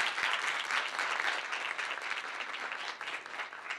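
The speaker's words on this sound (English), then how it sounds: "So please give me an applause." An audience at a university town hall applauds the translators with a steady, dense burst of many hands clapping, moderately loud and continuous for a few seconds, without speech over it.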